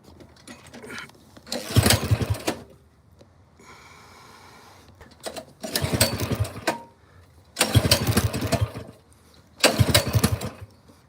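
A 212 cc mini bike engine on choke fires up four times in loud, rough bursts of a second or two, each dying back to near silence before the next start, close to the listener.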